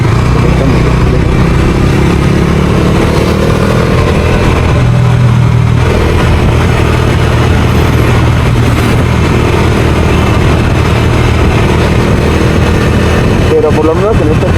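Bajaj Dominar 250 motorcycle ridden through curves on a road with oncoming traffic, its steady mid-pitched engine drone continuous and loud throughout, with slight shifts in tone as the rider eases through bends; a voice talks over it.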